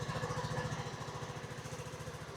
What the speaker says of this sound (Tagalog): tumaas na yung idle niya